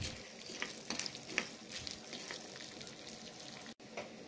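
Urad dal frying in a pan for chutney, a faint steady crackle with small pops and light stirring, quiet and without voices.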